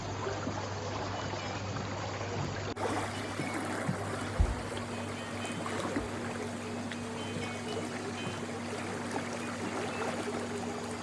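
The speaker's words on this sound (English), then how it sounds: "let you enjoy the sound of this beautiful blue water" Clear blue water in Albania flowing and lapping steadily, a soft continuous wash with gentle trickles and a faint hum beneath, moderately quiet and uninterrupted.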